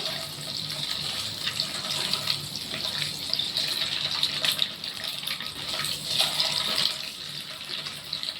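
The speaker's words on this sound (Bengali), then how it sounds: "এইভাবে ডিমটাকে আমি ভেজে নেব।" An egg frying in hot oil in a pan gives a steady, close sizzling hiss that crackles faintly and continues without pause, with no talking.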